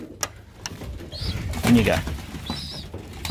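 Pigeons in a backyard loft, soft cooing and a brief flutter of wings near the middle, heard under someone speaking a few words to the birds.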